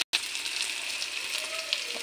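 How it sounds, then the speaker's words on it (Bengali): Chopped onions fry lightly in mustard oil with nigella seeds and dried red chillies, giving a steady, soft sizzle that continues after a brief cut at the start. "পেঁয়াজটা একটু হালকাভাবে ভাজা করে নিই।"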